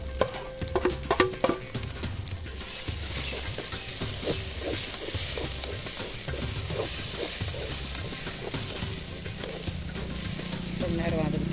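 Onions and tomato sauté in a pan for a dried anchovy thokku, with a soft continuous sizzle and a few clinking stirs of a spoon against the pan early on, close up and fairly steady.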